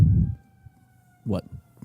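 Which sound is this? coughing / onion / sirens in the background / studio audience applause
sirens in the background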